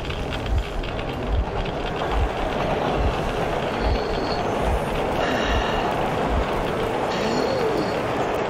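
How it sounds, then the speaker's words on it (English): A train rolls past in the post-apocalyptic video game Metro Exodus, a loud steady rumble with rhythmic wheel thumps and metallic squeals over several seconds, with no talk. "The train!"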